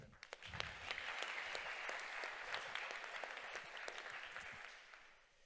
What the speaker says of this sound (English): We did not have a round of applause for Alesh.